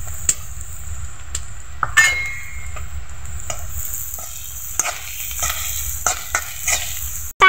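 Chili powder, turmeric and salt are stir-fried with green chilies and onion in a pan, a low steady sizzle broken by repeated sharp metallic clinks and scrapes of the spatula against the pan.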